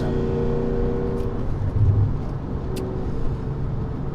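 A BMW E39 M5 with a Dinan S2 tune, running on 93 octane, cruises at highway speed. Its engine and road noise form a steady, close drone with mild swells.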